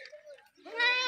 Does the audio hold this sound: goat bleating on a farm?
yes